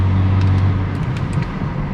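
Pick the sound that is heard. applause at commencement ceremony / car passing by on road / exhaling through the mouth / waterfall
car passing by on road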